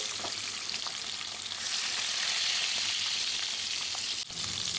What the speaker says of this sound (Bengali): মাছগুলো আস্তে আস্তে তেলের মধ্যে ছেড়ে দিচ্ছি এপিট ওপিট করে ভালো করে মাছগুলো ভেজে নিতে হবে